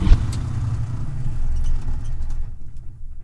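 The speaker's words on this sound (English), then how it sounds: "I'll go ahead and turn the engine off" A Class A truck's engine is switched off from the cab, its loud low rumble continuing briefly before fading away toward quiet.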